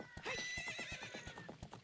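A horse whinnies in Ocarina of Time Randomizer, a loud rising-and-falling neigh over quick clip-clop hoofbeats that continue steadily after the call fades.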